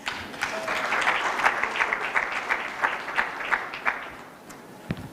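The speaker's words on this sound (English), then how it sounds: "Ladies and gentlemen, another round of applause for Dr. Dorcas Sakurut." Conference audience at an African climate change adaptation event applauding a speaker, a steady, dense round of clapping that holds for several seconds and tapers off, with no voices over it.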